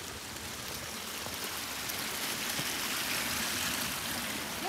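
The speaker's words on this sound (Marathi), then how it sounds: "तर ते सगळं पाणी आहे ना इथे येतं आहे" Water from a rain dance and waterfall area at an agrotourism resort near a dam in Sawantwadi, a steady, even rush of flowing and splashing water heard continuously at moderate distance.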